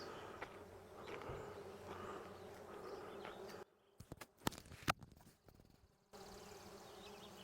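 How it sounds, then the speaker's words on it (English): Masses of bees swarm along a backcountry road near old mining ruins on Texada Island, a dense, continuous close buzzing that dips and returns briefly partway through. "Oh, look at all the bees."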